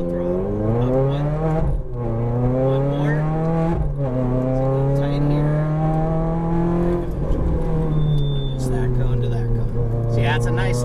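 Ferrari F430 engine pulling hard on a track, a loud, close, continuous drone rising in pitch through the gears with brief dips at each upshift, while an instructor talks over it.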